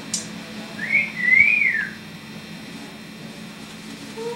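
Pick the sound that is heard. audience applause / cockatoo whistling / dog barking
cockatoo whistling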